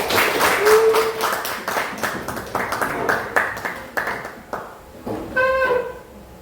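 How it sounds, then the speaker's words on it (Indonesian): Students in a classroom clap together in a short run of distinct, fairly close claps that slow and fade, with a brief voice at the start and a sung or called tone near the end. "Beri tepuk tangan kepada teman-temannya"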